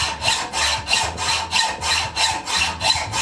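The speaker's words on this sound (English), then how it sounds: "I'm putting a lot of friction on there with this hacksaw." A hand hacksaw cuts a small piece of steel for a South Bend 9C cross slide T-nut, making about eight even back-and-forth rasping strokes, close and fairly loud, with no talking.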